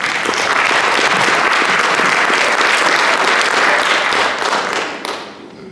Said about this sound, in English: I think we owe the Lawrence City Commission a round of applause